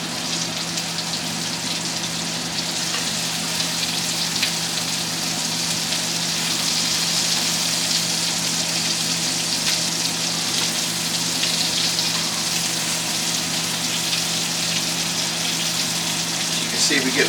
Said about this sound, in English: See, we get a nice sear on the scallops.